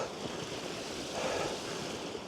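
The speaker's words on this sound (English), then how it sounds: "Loads of flowing water, man." Water flows down a misty mountain hillside as a steady, broad rushing wash, with the noise of wind on the microphone mixed in and no voices.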